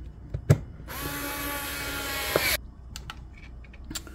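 A cordless screwdriver drives screws into a Ryobi battery pack during a cell replacement, a steady close whirring run of about one and a half seconds framed by a few sharp clicks and taps, with no talk.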